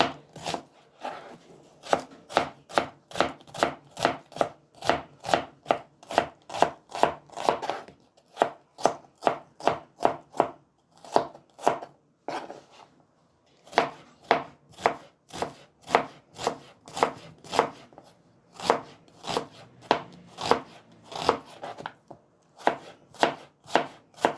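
Fast, steady knife chopping of onions on a cutting board, dozens of crisp close strikes in quick rhythmic runs with brief pauses.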